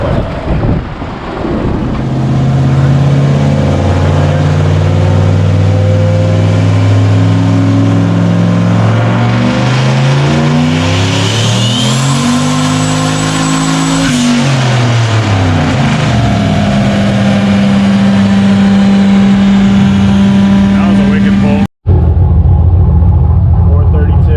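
An LS-swapped, turbocharged Nissan 240SX engine revs loudly while warming up, its harmonic tone rising and falling through several throttle sweeps over a steady idle, then cutting off abruptly near the end.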